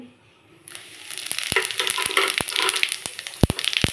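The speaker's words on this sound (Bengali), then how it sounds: "তেলের মধ্যে দিয়ে দেব গোটা জিরে" Whole cumin seeds sizzle in hot oil in a pan for an egg and carrot curry, a loud, dense crackling hiss that starts abruptly and continues steadily with sharp pops scattered through it.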